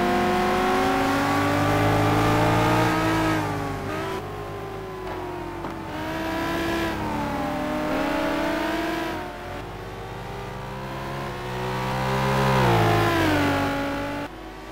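A Lamborghini race car in the simGT racing video game, its engine note climbing and falling through gear changes down the main straight, loud and close, with another car nearby.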